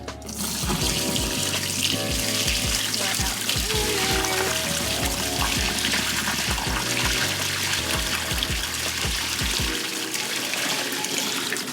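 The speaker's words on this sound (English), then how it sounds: "Alright, so now we're just gonna pour them out into the sink" Live blue crabs and water are poured from a pot into a kitchen sink, giving a loud, continuous rushing splash with scattered knocks and clatters of shells throughout.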